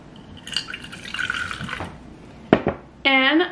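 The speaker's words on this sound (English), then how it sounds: "now let's add our water." Water is poured into red and blue paint for mixing, making a short, soft trickle and splashing nearby. Brief clinks follow, and a voice comes in at the end.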